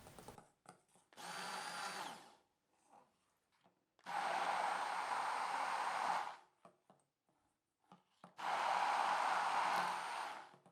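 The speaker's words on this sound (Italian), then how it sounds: "Con l'aiuto di un frullatore ad immersione cerco di dare una consistenza uniforme frullando per" Three loud bursts of an immersion blender whirring through chocolate cake batter, each lasting about two seconds, separated by short pauses with faint clatter.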